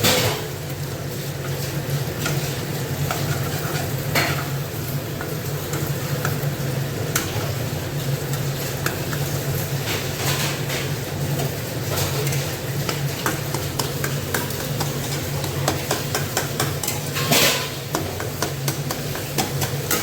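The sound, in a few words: stirring egg into softened fried potatoes in a pan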